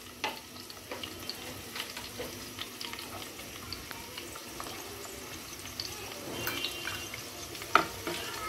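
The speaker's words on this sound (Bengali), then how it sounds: "এখন পেঁয়াজটা ভালো মতো ভেজে নিতে হবে।" Chopped onions with salt frying in a small amount of oil in a pan, a steady soft sizzle with occasional stirring scrapes and faint clinks, close and fairly quiet throughout.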